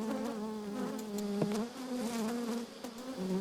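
Honey bees drone and buzz around hive frames in a brood box, several wings audible at once with rising and falling pitches, close but fairly quiet.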